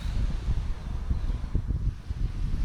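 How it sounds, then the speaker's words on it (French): A light breeze blows under a tree on a tropical island in the Banggai Islands, Sulawesi, producing a constant low rumble of wind against the microphone with soft rustling. "Il y a le petit vent. On est sous un arbre."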